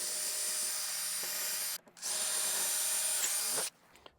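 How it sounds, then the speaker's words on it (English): A power drill with a 3/4 inch Forstner bit bores a countersink into wood for a lapped newel post, whining loudly and steadily nearby, with a brief stop and restart midway before it shuts off. "I'm going to countersink with a 3/4 Forstner bit in a couple of spots just so I can attach the post."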